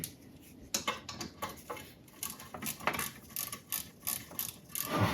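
Ratchet socket wrench with a 1/2-inch socket working on an S1 engine while parts are removed, giving bursts of rapid close clicking and metallic clatter in uneven spurts, with no talking.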